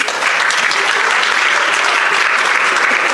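An audience at a conference session claps loudly and continuously, a thick, even wash of applause that stays steady throughout with no voices over it.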